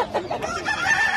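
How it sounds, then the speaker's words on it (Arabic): An Arabic rooster at a busy poultry market crows loudly and clucks in repeated bursts, close by, with faint market noise underneath. "هذا ديك عربي كلش حلو هذا"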